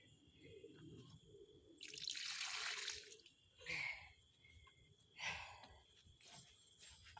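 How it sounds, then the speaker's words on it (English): Water poured from a hose or can onto freshly transplanted Magnus coneflowers in a garden bed, coming as several splashing bursts of varying length over quiet outdoor background. "But I want to give it as much water as I can."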